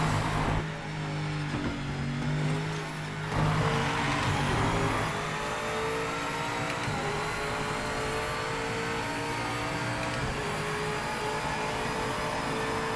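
A race car engine in Project Motor Racing accelerates hard, giving a loud, sustained rising drone with whining tones layered over it. The engine noise fills the whole stretch without letup.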